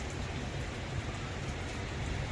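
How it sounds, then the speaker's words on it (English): Heavy rain at Christie's Beach falls on a closed Darche awning, a dense, even hiss and patter that stays steady and continuous throughout with no voices. "So we got a lot of rain here at Christie's Beach today."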